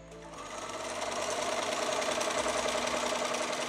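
A Bernina sewing machine stitching, its motor ramping up then running at a fast steady rhythmic whir and needle chatter, close and loud with no talk.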